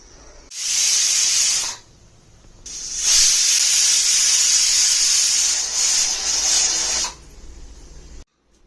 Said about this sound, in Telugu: ఇప్పుడు ఆవిరి పోయింది.